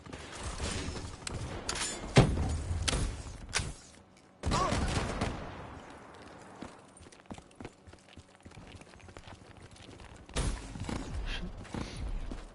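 Bursts of shotgun fire from enemies in a video game come in loud clustered blasts separated by quieter gaps, along with clattering mechanical noises.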